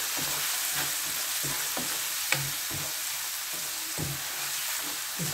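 Spices such as dried red chili powder and turmeric being roasted in a pan for baingan bharta: a steady, even sizzle with regular scraping strokes of a spatula about every half second, close and without any talk.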